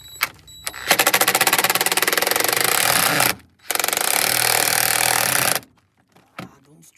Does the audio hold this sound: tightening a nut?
yes